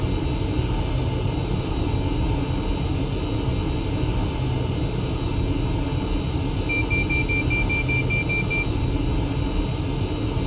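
A Boeing 737-800 climbing after takeoff with its landing gear retracting, heard as a steady, loud cockpit engine roar and rumble with a faint tonal whine and no talk.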